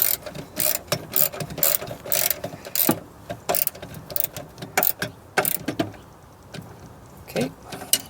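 A ratchet clicks in quick, uneven bursts while tightening a battery terminal on a second-generation Toyota Prius, close up, with sharp pawl clicks and short pauses throughout.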